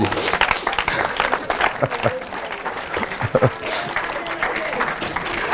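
A church congregation applauds and acclaims the Lord, with steady, dense clapping and crowd noise running throughout while a voice speaks over it.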